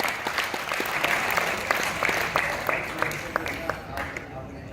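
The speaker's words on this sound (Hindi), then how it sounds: "एक बार दोनों हाथ उठे, जोरदार तालियों से प्रविंदर पाल जी का अभिनंदन करें" Sustained audience applause at a university event honouring a guest, a dense wash of clapping hands that carries steadily throughout, with a few louder individual claps standing out near the front.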